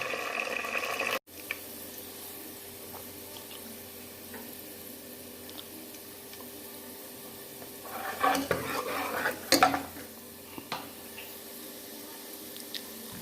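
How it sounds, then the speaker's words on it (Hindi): Onions frying in hot ghee give a faint, steady sizzle, broken midway by a few louder bursts of stirring and scraping in the pan. "घी हमारा गर्म हो चुका है, इसमें डालेंगे प्याज। अच्छी तरह ब्राउन कर लेंगे।"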